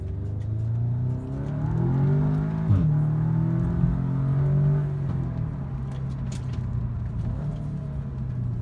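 A stock Audi S3 in Algeria revs up through its factory exhaust, a steady loud engine drone rising and falling as gears shift, with a brief surge midway, heard close with no one talking.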